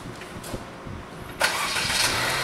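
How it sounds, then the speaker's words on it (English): Car engine starting: a quiet cabin with faint clicks, then a sudden crank and catch into a steady idle hum that holds to the end, close and with no talking. "Engine on."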